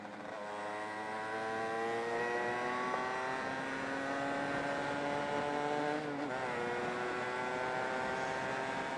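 Small 50cc motorcycle engine straining up a hill, a steady buzzing drone with harmonics slowly climbing in pitch under load, close and continuous, with a brief dip near the end.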